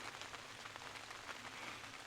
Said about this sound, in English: Little pitter-patter rain coming down.